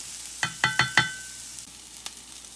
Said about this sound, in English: you can hear the veggies sizzle in the pan